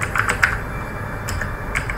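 Typing a Linux terminal command on a computer keyboard, a quick irregular run of crisp close key clicks in short bursts with brief gaps, no voices.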